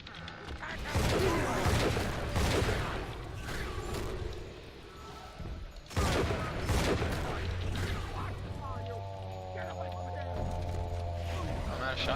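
Shotgun blasts in the BioShock 2 video game ring out amid a busy, noisy game soundscape, with sharp loud bursts near the start and again around the middle, followed by mechanical game sounds and a low steady hum.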